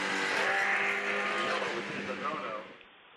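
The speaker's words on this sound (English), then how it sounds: "Pace car leading the field up the hill now" Racing car engines roar close by in a loud, sustained rush as the field follows the pace car up a hill, then fade and drop off near the end.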